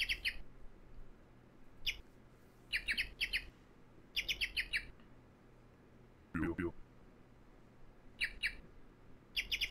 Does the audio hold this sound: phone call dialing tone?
no